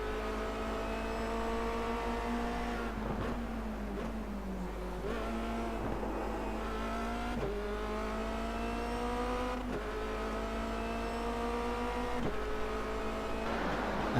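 Formula Renault 2.0 race car lapping the Bathurst circuit, engine revving high through repeated upshifts and lifts, a steady onboard drone with sharp gear changes every couple of seconds.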